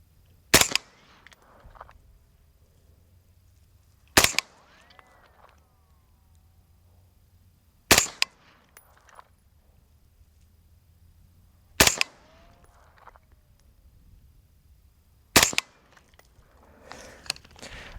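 Five sharp, loud 5.56 rifle shots ring out at a shooting range during a laser sight test, spaced roughly every three to four seconds, each with a short echoing tail.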